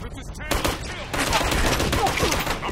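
Rifle gunfire in Operation Flashpoint: Red River rattles off in loud, rapid bursts of close shots that layer into sustained firing with no pause.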